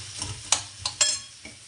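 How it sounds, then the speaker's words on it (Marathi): Potatoes stir-fried in a pan, a soft background sizzle broken by a few sharp scraping knocks of a spatula, close and moderately quiet. "बटाट्याला चांगलं परतून घ्या, मग त्याला मसाला सगळा लागू द्या बटाट्याला"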